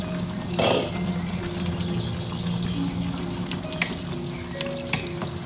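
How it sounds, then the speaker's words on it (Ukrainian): Pot of vegetable soup with potato and carrot left on low heat on a stove, giving a soft steady simmer with faint bubbling and a brief louder burst near the start. "На медлений поставила, хай булькає."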